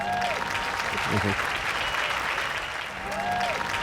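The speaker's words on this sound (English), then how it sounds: "Get a round of applause for" A steady wash of crowd applause, fairly continuous and moderately loud, greets a guest on a fantasy football show, with voices speaking over it.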